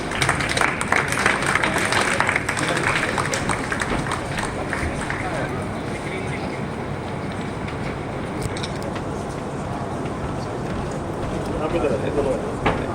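An audience applauds a team on stage at an environmental award ceremony, with steady, dense clapping that fades slightly midway and swells again near the end, while someone speaks over it.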